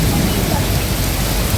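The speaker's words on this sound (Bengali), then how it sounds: "বৃষ্টিতে তো উড়িয়ে নিয়ে যাচ্ছে" A heavy evening downpour with wind creates a loud, dense, continuous roar of rain close by, with no breaks.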